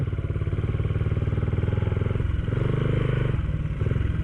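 A motorcycle engine chugs loudly and close by, its rhythmic putter shifting slightly as it rides along a slippery, muddy forest trail.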